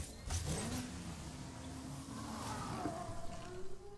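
A Chevy Camaro engine revs in the Asphalt 9 racing game. The rise in pitch is fairly faint and mid-range, sounding alone without speech.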